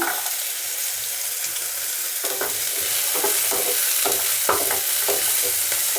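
Ginger and garlic fry and sizzle in a kadai pan while being stirred, a steady close hiss broken by scraping stirs and clinks.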